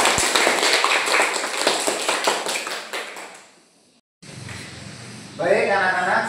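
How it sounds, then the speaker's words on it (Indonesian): A classroom of children claps for a pupil during an Islamic studies lesson, quick scattered claps that fade out over a few seconds before a teacher's voice resumes. "Tepuk tangan buat Hafiz"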